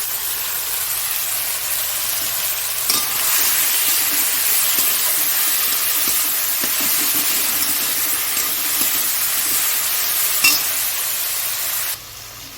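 Small shrimp and fish fry in oil in a pan, a steady crackling sizzle with frequent stirring scrapes and clicks, before it quietens suddenly near the end.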